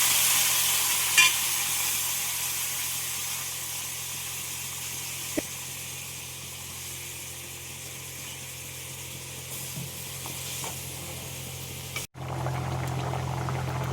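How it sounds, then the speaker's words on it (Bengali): Water is poured onto black pepper in a hot pan, and a loud, steady hiss of sizzling carries on for several seconds, easing slightly before a sudden cut and a renewed sizzle. "গোলমরিচের ওপরে এবারে পরিমাণ মতো জল দিয়ে দেব"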